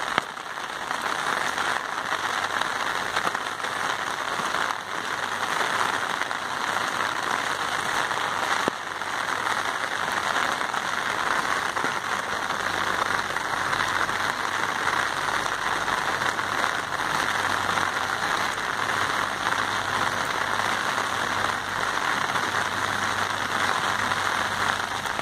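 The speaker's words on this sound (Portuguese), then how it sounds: "não está nem chovendo muito, já está desse jeito." Light rain falls on an unpaved, muddy street in Itapoá, Santa Catarina, a steady, even hiss of drops that continues without a break throughout, with no voices.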